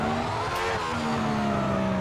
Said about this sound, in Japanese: あ、あんま走れるぞ F1 のエンジン。